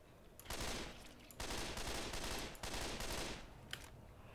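Gunshots in Left 4 Dead 2, a zombie shooter: dense, loud volleys of rapid fire in several sustained bursts, with short breaks between them.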